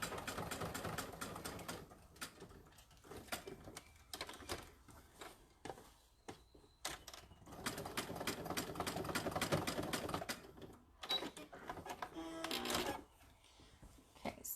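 A sewing machine stitches X-shaped reinforcements onto tote bag straps, sounding as close, rapid mechanical rattling bursts that stop and start repeatedly, with brief pauses between runs.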